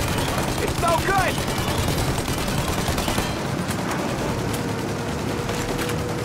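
In the video game Mafia Definitive Edition, gunfire is aimed at a plane's engines: rapid bursts of shots crackle over a roaring, noisy din, with voices shouting amid the chaos.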